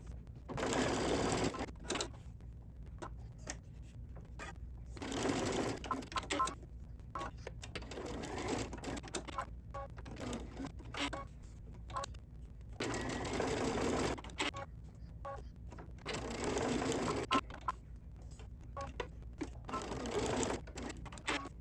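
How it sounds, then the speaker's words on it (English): A sewing machine stitches diagonal lines about an inch apart across a duffel bag, running in several steady bursts of rapid mechanical whirring separated by short pauses, close and alone without talk. "I'm just going to sew all my diagonal lines about 1 inch apart."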